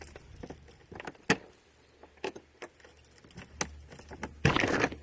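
A bunch of keys jangles and clinks in short bursts while being tried in the door lock of a 2011 Open Range Journeyor 340 FLR RV, close and crisp with no talking.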